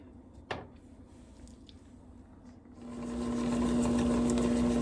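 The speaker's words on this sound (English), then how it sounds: "So the machine has been running at full tilt for about a minute or two." A stand mixer with a premium beater assembly whips cowboy cookie dough at full speed. After about three seconds of quiet it kicks in with a loud, steady, close motor whir and churning that holds to the end.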